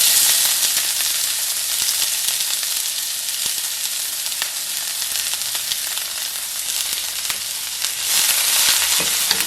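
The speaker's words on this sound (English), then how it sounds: "First I'm gonna fry onion." Onion fries in a hot pan for Gobi Manchurian, a loud, continuous close-up sizzle with occasional stirring crackles and no voices.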